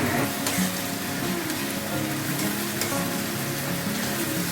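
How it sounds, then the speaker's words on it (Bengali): Ginger garlic paste and ground onion fry together in a pan, giving a steady, dense, close sizzle that holds evenly throughout with no voices. "এর মধ্যে একই সাথে আমি 2 চামচ আদা রসুন পেস্ট দিয়ে দেবো।"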